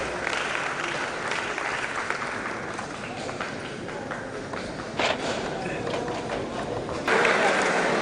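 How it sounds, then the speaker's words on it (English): Audience applause at a DevFest developer tech event in Owerri greets a speaker stepping forward, steady clapping throughout with voices talking over it and a louder burst near the end. "A round of applause for Winner as he steps forward"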